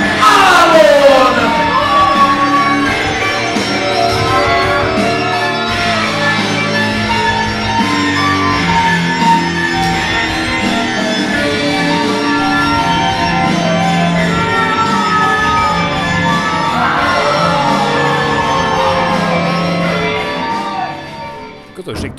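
A wrestling crowd at an HCW Underground show shouts and jeers at the wrestler Ámon, a loud, continuous roar of voices that swells and surges under a commentator speaking over it.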